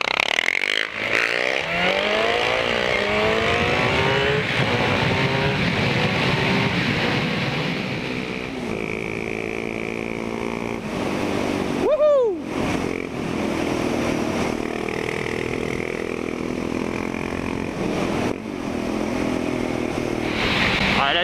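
A Suzuki GSX-R 750 K6 sport bike engine revs hard while riding, climbing repeatedly through the rev range with sharp gear changes and brief drops between pulls, loud and close throughout.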